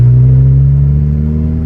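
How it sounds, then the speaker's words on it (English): A 2006 Lotus Elise exhaust drones loud and close as the engine holds steady revs, a deep, smooth tone that eases slightly toward the end. "that sound from that exhaust we just made"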